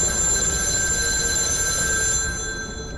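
A telephone rings continuously with a steady, sustained electronic tone that holds throughout and softens slightly near the end, with no talking.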